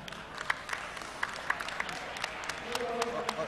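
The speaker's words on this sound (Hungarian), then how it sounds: "Nagy tapsot neki." Scattered clapping from a small audience rises over a noisy room at a Heroes of the Storm esports final, with a voice briefly underneath near the end.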